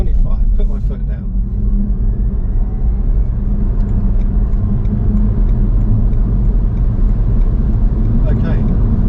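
A newly delivered car's engine rumbles steadily as it speeds up on the road, heard from inside the cabin under a driver talking.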